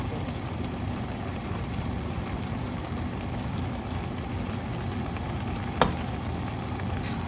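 Pork and beef frying in a pan for a vegetable stir fry, giving a loud, steady, even sizzle throughout, with one brief sharp clack of a utensil near the end.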